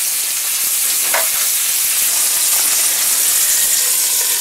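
Food frying in a pan with butter and sage gives a loud, continuous sizzle and hiss, with a few brief stirring clicks and no talking.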